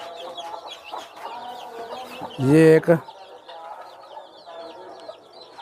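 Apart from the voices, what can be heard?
hen clucking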